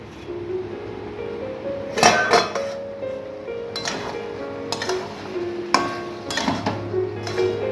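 A cooking pot of chicken rings with several metallic clanks and clinks as its lid is lifted off and handled, the sharp knocks spaced irregularly over a low steady hum, with no talk.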